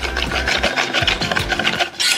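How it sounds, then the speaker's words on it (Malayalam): A milk, milk powder and cornflour mixture for kunafa being stirred in a bowl, a quick rhythmic scraping and swishing repeated several times, close and fairly loud without talk. "ഞാനിതൊന്ന് കട്ടയില്ലാതെ ഒന്ന് ഇളക്കുവാണ്"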